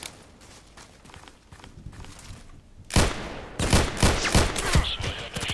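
Bursts of automatic gunfire in the video game Contract Wars, on the Site and Old Sawmill maps in hardcore mode, loud and rapid after a quieter stretch of footsteps and faint movement.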